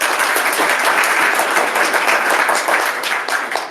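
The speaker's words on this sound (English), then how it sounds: "that was the clapping point for this whole thing." An audience at a browser developers' conference lightning talk bursts into dense, steady clapping that stays loud throughout, with no talking on top.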